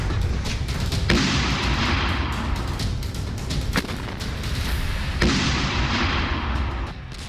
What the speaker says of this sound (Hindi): हमास ने दक्षिणी एशकोल क्षेत्र में ताबड़तोड़ कई रॉकेट दागे।